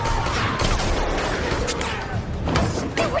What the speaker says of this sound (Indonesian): Aksi baku tembak pun terjadi di antara mereka.